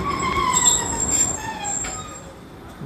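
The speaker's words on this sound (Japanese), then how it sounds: "路面電車。" High-pitched metallic squealing of streetcar wheels grinding on rails near Himematsu station in Tezukayama, Japan, sustained and piercing over a low rumble of the moving car.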